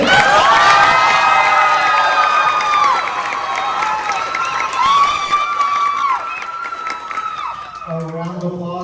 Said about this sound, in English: How about a round of applause for Miss Nevin?